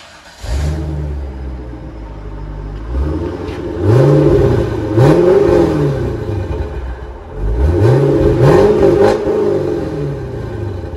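A Chevrolet Corvette V8 engine revs hard several times through a loud aftermarket exhaust, deep rumbling climbs and drops close by, idling between bursts.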